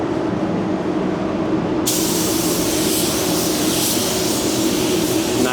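A spray gun at low pressure lays a textured orange-peel finish on a Chrysler-built Dodge panel, a loud continuous rushing hiss that brightens after a couple of seconds and stays steady throughout with no talking.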